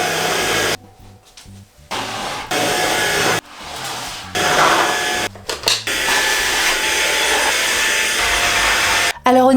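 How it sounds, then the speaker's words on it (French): A household vacuum cleaner runs in bursts while a room is cleaned before a bed is set up, its broadband whine starting and stopping several times, loud and close. "je vais chercher mon aspirateur, il faut tout nettoyer avant de tout installer"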